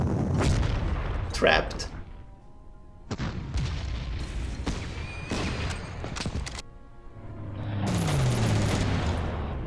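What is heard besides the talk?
artillery gunfire in the video game Panzer Corps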